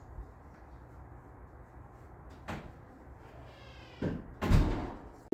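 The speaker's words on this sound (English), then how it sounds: "Shut the door." A door is pushed shut in a home garage during a 1984 Hurst/Olds restoration, a single solid thud near the end after a couple of softer knocks and creaks over a quiet background.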